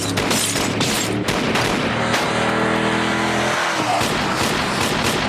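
A car tears away during a chase, its engine roaring loudly through a rising and falling whine, mixed with sharp rapid bangs and tire noise.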